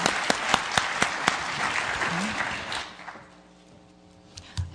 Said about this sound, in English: a big applause for the robust discussion we've just had